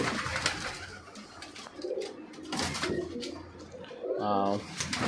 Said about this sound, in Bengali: পায়রাগুলো আমাকে দেখে পালিয়ে যাচ্ছে।